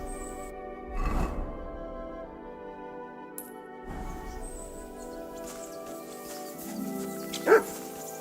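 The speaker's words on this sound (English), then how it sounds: "Barking. He's coming from over there." A dog barking in the medieval game Kingdom Come Deliverance II, a couple of distant, muffled yips spaced seconds apart over a quiet ambient background.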